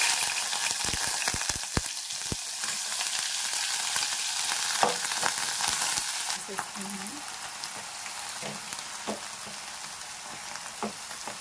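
Washed brinjals sizzle and crackle loudly in about two tablespoons of hot oil in a pan, a steady dense hiss with sharp utensil scrapes and clicks while being stirred, heard alone without talk.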